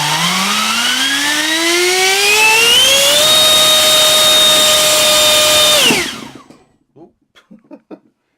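A Haoye 90mm electric ducted fan with a 4076 2250kv motor spools up from a low whine to a loud, steady high-pitched roar at full thrust, then cuts off abruptly, followed by a few small clattering knocks.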